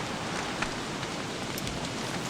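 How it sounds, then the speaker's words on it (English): Steady, even rain falls in the game Don't Starve Together, a soft continuous patter of drops that fills the whole stretch with no talking over it. "This rain is driving me nuts in real life."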